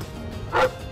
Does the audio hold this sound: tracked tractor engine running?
no